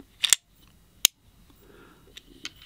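Marushin Colt SAA Cavalry heavyweight gas revolver with X-cartridges, unloaded, giving a few sharp mechanical clicks in the action: a quick double click, a single crisp snap, then two softer ticks, close and dry over quiet background.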